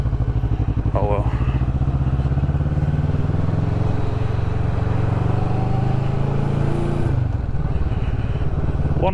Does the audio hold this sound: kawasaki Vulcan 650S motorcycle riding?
yes